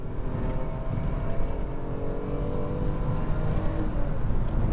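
Alfa Romeo 155 V6 engine pulling hard under acceleration, a steady loud low drone with dense harmonic layers and no letup, heard from inside the car.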